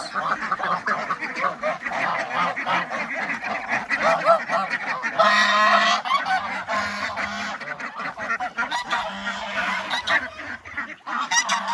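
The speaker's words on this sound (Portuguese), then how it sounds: "Aqui tem um pouco dos gansos." Geese honk repeatedly nearby, loud nasal calls overlapping in a busy flock, with some quieter quacking mixed in.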